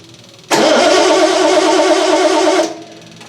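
A 1976 Triumph TR6 engine cranks with the choke pulled out. A loud, continuous starter whir starts abruptly, holds steady for about two seconds, then cuts off without the engine catching.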